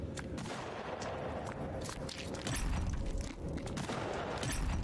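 Rapid bursts of gunfire ring out in the video game Sons of the Forest, dense cracking shots in quick succession with heavier booms partway through.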